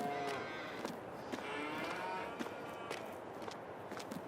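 Cows on a farm in Farming Simulator 22, lowing and moving about, with soft repeated footfalls and faint moos over a steady ambient background.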